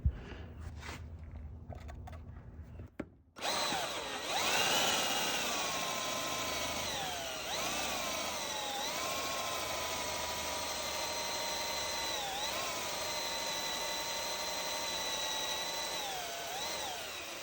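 A power drill fitted with a carbide-tipped bit bores into a stainless steel towel rack, spinning up after a brief pause and then holding a loud, steady whine with a few dips in pitch as the bit bites into the metal.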